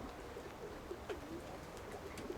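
Pigeons cooing inside old dovecotes built in the 1970s, several soft, low throaty coos repeating at a moderate distance, with faint rustling and a quiet outdoor background.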